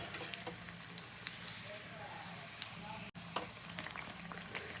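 Karthigai appam batter frying in oil in a pan, a soft continuous sizzle with scattered bubbling pops and a sharp clack near the end, fairly quiet and close.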